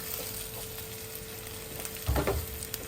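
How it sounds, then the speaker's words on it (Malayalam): Thrissur-style pork roast is stirred in a pan with a low steady frying sizzle, and a louder scraping stir bursts out near the end. No one speaks. "നന്നായിട്ടൊന്ന് ഇളക്കി കൊടുക്കാം"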